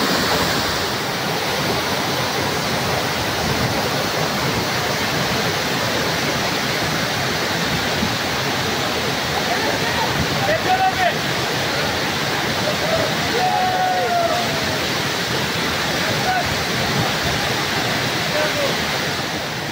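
Şarlayan Waterfall roars with a dense, constant rush of water close by, loud and unbroken for the whole stretch.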